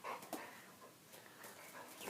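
A dog makes faint, soft whimpering and panting sounds, with a couple of brief yips near the start, all quiet and close.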